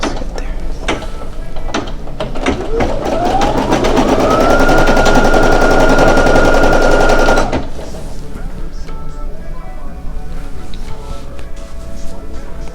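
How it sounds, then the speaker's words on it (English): A Brother SE1900 embroidery machine runs a placement stitch, its needle clattering in a rapid, steady mechanical rhythm that winds up in pitch, holds for several seconds, then stops, leaving quieter handling noises. "I'm gonna start off with the placement stitch. This stitch will let me know where to put the fabric."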